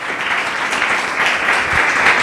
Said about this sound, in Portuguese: Louve ao Senhor com suas palmas.